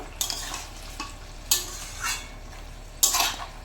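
Katla fish head curry stirred in a pan, three distinct scraping strokes spaced about a second and a half apart over a soft, close sizzle.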